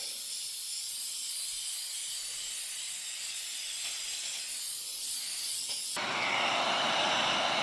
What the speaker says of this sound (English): Here comes the shellac.